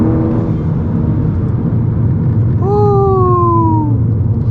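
A tuned VW Golf GTI making 400 hp and about 420 wheel torque accelerates up a slight canyon incline, its engine droning steadily, with a rising-then-falling whine of revs sweeping through a gear.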